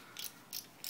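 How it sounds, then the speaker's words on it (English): An antique reversible ratchet tap handle clicks as it drives metalworking taps, three short, bright bursts of ratcheting evenly spaced, close and fairly quiet. "it's got a reversible ratchet"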